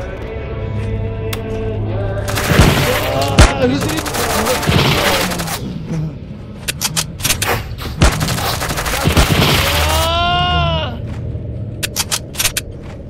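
Gunfire in the Heat Guardian game comes as loud bursts of rapid automatic shots, clustered in heavy volleys with scattered single cracks between, close and punchy, while someone talks briefly.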